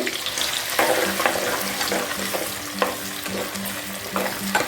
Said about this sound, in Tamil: வெங்காயம் பூண்டெல்லாம் நல்லா வதங்கணும், வதங்கட்டும்.